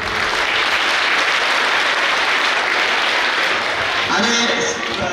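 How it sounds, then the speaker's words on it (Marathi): Audience clapping together at a school quiz and all-round student competition event, a dense, steady wash of applause that stays loud and continuous throughout, with a voice briefly audible near the end. "सर्वांनी एकदा टाळ्या वाजवायचे"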